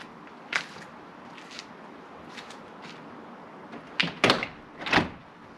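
A newly fitted uPVC French door is opened and closed, making a few soft clicks early on, then a cluster of sharper knocks and latch thuds close by near the end, with no talking.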